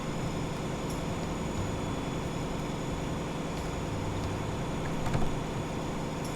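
A diesel locomotive in the Transport Fever 2 video game gives off a steady, loud engine rumble with a continuous rail-running texture, alone and unbroken, with a brief swell near the end.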